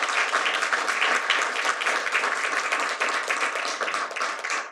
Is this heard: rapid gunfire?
no